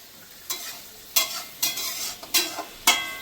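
Mutton curry being sautéed and stirred in a pan, giving a series of scraping, sizzling spatula strokes at an irregular rhythm, fairly close, with no voices.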